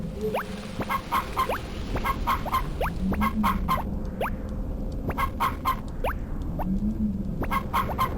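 Chickens in the Harvest Moon: Friends of Mineral Town game cluck repeatedly in a busy, rhythmic stream of short game-sound calls over a steady background, with no one speaking.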